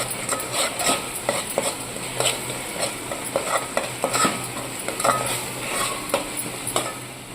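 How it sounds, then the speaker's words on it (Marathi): Puran filling being stirred and roasted in a pan over a low flame, with steady scraping strokes of a spoon against the pan over a soft sizzle. "तर हे बघा मी असं चांगल्या प्रकारे हे भाजून घेत आहे"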